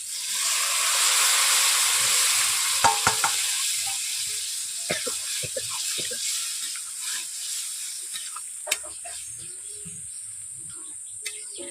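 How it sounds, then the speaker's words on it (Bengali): Boiled peas and potatoes sautéing in a hot pan: a loud continuous sizzling hiss that slowly eases, with irregular light scrapes and taps of a spatula stirring through it. "এইভাবে মটর আলুকে আমি 5 মিনিট কষিয়ে নেব।"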